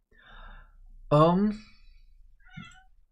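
A domestic cat gives a single clear, close meow in a quiet indoor room, with a softer breathy sound and a faint short vocal noise following.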